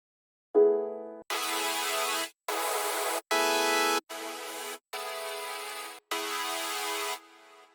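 A series of seven separate sustained synth chords, each held about a second with short gaps between them, bright and full-bodied, with no voices.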